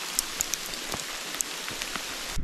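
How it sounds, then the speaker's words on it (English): Rain falls on a creek during a storm with hail and a little wind, a dense, even hiss of drops with a few sharper ticks, cutting off abruptly at the end. "Seen some hail, some rain, a little bit of wind."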